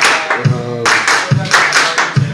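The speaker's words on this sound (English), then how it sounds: "Clap along, clap along." An audience at Daltons Hell's Kitchen claps along in a steady beat to a live singing performance, the sharp, rhythmic claps loud and close over the music.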